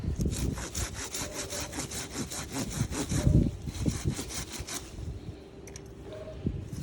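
An old climbing rose stem is pruned up close with a rapid run of rhythmic sawing strokes through woody stem, then quieter snips and rustling.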